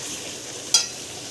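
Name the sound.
coriander leaves frying in oil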